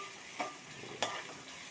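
Crab curry frying in a pan gives off a faint, steady sizzle, broken by two brief scraping stirs, quiet and without speech.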